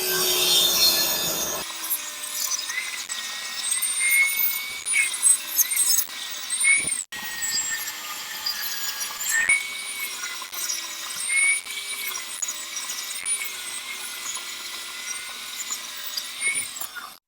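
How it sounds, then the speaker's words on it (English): A table saw rips tapers along wooden table legs held in a clamping jig, a loud high whining cut running steadily for most of the stretch with brief dips between passes and no talking. "I can just put the leg in to these clamps, run it through the table saw."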